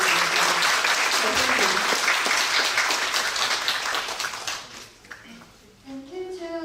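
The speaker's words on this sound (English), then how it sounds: "please speak applause for all the students" Applause from a medical conference audience for student presenters, a dense, sustained round of clapping that thins and fades out, followed by a voice speaking.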